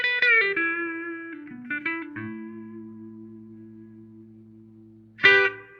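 A clean electric guitar played through its neck humbucker: a few picked notes and a chord ring out and sustain for several seconds, then a fresh strum comes in strongly near the end, with no voices.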